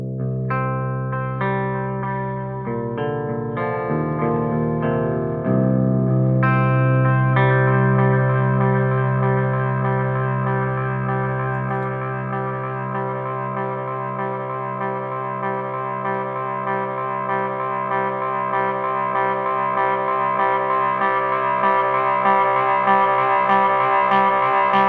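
Boss DD-500 delay pedal running a looped phrase as its feedback is cranked, repeated notes stacking into a loud, sustained, self-oscillating wash of echoes that swells and holds, no voices.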